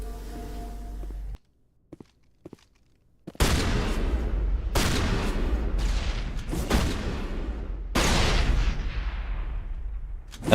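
Grenade blasts and gunfire in the video game Mass Effect: after a brief near-silent gap, several loud, booming explosions arrive one after another, each with a long rumbling tail, set against continuous combat noise.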